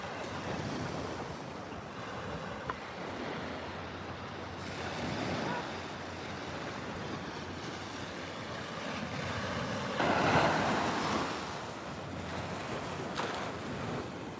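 Ocean surf at a Florida beach rolls in as a constant wash of breaking waves with wind rumble, swelling louder around one crest, no speech.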